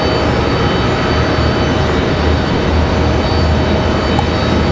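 United Airlines airliner taking off at Raleigh-Durham International Airport, a loud, steady broadband engine roar that holds without a break and stays close throughout.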